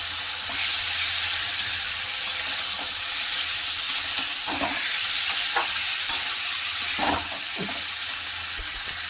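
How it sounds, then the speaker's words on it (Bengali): Boiled potatoes fry with well-cooked spices in a pan for veg ghugni, a steady close sizzle under repeated spoon scrapes and stirring knocks, with no one speaking. "মশলা ভালো করে কষে গেছে, এখন আলু দিয়ে দিলাম, সেদ্ধ করা আলু দিয়ে দিলাম।"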